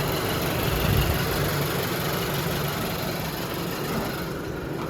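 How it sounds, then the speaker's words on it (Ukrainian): A 1.6-litre petrol engine in a Renault Grand Scenic idles steadily, giving a continuous, even low hum that stays at a constant level throughout with no voices. "машинка заводиться без проблем. Ну і працює взагалі кайф"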